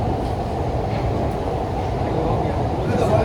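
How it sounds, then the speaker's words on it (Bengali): A metro train runs toward the tunnel beneath the Ganga river, giving a loud, steady rumble and rush of wheels with people talking over it. "এই যে এখনই গঙ্গার নিচে প্রবেশ করবে মেট্রো"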